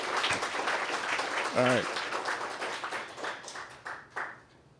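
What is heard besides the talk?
applause for Parker's Lighthouse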